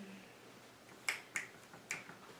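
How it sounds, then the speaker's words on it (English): In a classroom discussion lesson, fingers snap about four times in loose succession. The snaps are crisp, fairly quiet and spaced unevenly over a faint room hush, with no talking. "That's why I snapped."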